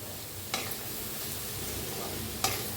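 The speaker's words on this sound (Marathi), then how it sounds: "आता टाकू ह्याच्यात टमाटो. भाजीला मिक्स करायचं." Tomatoes are stirred into a frying vegetable curry: a soft continuous sizzle with two distinct scraping stir strokes, fairly quiet, no speech.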